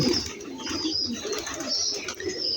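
Pigeons at their loft after morning rain give a steady, close cooing, mixed with soft wing flaps and bird calls throughout, with no talking.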